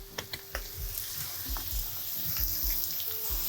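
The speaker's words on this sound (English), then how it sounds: "Let those spices toast and bloom for a little bit." Spices toasting in a hot pan for Mexican street-style creamed corn, a steady close sizzle with a few sharp ticks and pops early on and soft bubbling underneath, no talking.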